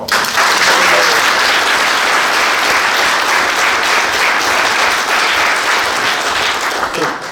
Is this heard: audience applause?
yes